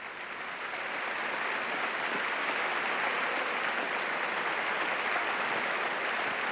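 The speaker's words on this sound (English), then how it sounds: "And here you see the applause of people here who made the trip down from Minnesota, Minneapolis." Steady, dense applause from fans at a college basketball game, a continuous broadband patter that swells in after a brief quieter start and holds at moderate loudness throughout.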